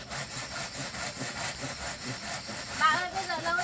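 A dull hand saw rasps through bamboo in steady back-and-forth strokes, close and continuous with a scratchy, dragging texture and no talking.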